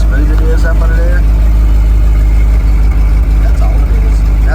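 Engine idling steadily after an exhaust modification, a smooth continuous low hum, loud and close, with some clanks and other faint sounds mixed in.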